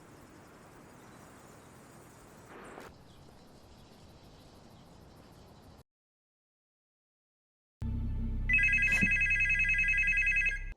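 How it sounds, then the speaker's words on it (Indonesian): Quiet outdoor ambience gives way to a brief silence, then a telephone bursts into loud, close, bright repeated ringing that fills the last few seconds. "Si Yuni kembali dikagetkan oleh telepon yang berdering"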